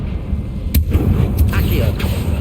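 Confringo spell blasts in the video game Hogwarts Legacy, a few sharp bursting pops spaced about half a second apart over a rumbling game background, with spoken voice mixed in.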